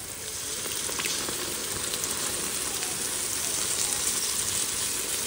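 Masala with tomato and green chilli sautéing in hot oil, cooked outdoors by a river in the Sundarbans, a loud, steady frying sizzle that swells after the first half-second and carries on evenly with faint scraping.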